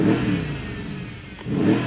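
A rebuilt salvage Mercedes CLS 63 AMG revs its engine: a loud, sustained roar that eases off slightly in the middle and then swells again, close up, with no voices.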